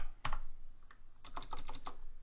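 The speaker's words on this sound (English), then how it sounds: "So in order to do that, I type" Quick keystrokes on a computer keyboard, a single tap followed by a short clustered run of clicks, close and crisp in a quiet room.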